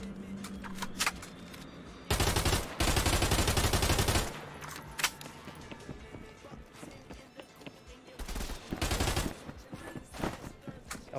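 Gunfire in the multiplayer shooter Contractors Showdown: a dense automatic burst lasting about two seconds, then scattered single shots and a shorter second burst over ongoing game ambience.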